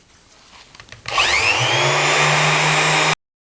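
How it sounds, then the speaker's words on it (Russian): An orbital sander buffs a painted surface, starting abruptly after a second of quiet and holding a loud, steady, close whirring drone for about two seconds before cutting off sharply. "Этого скучнейшего занятия валяния виброшлифовалкой"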